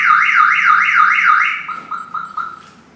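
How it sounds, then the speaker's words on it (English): A Viper 5901 alarm on a Jeep Wrangler sounding close and loud: a rapidly rising and falling siren sweep repeating several times, then switching to short repeated chirps. "alarm went off."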